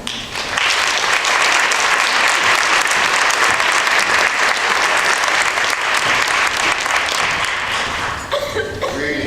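An audience at a talk in Seattle breaks into loud, sustained applause, a dense wash of clapping that holds steady for several seconds and then thins out near the end.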